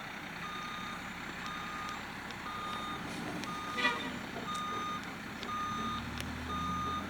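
A heavily loaded gravel truck carrying more than 26 tons reverses with a steady, evenly spaced backup beeper repeating over a constant low engine rumble, moderately near and without talk.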